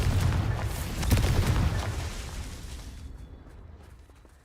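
Confringo blast spell from Hogwarts Legacy erupting in a loud, booming explosion with crackling bursts, peaking early then rumbling and fading out over several seconds.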